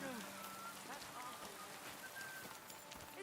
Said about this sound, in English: Oh, Hamish, raining again